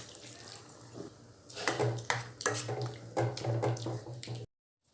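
Water splashes and pours steadily into a cooking pot at close range, with some clatter and a low hum in the background.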